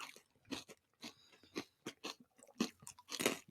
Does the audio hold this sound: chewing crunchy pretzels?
yes